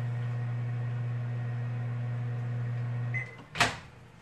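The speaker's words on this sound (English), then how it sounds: "So I'm just gonna microwave this for like 10 seconds." A microwave oven hums steadily while heating cheese for a flatbread, then stops with a brief beep and a sharp click as the door opens.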